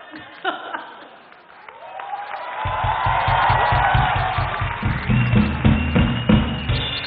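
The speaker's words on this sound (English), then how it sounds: "A big round of applause for the Minister and Mr." Applause and cheering swell from a crowd at a Mind Rocks 2015 youth event after a push-up contest between two politicians, building into sustained clapping with whoops and laughter, while a loud rhythmic music beat enters partway through.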